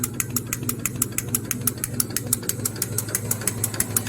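A paper napkin and non-woven folding machine, with a 500 mm folding cylinder, runs at full speed, producing a fast, regular mechanical clatter over a steady motor hum, evenly paced and close.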